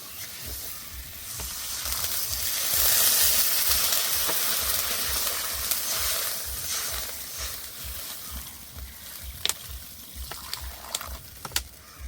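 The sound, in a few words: water added to sautéed potatoes in hot pan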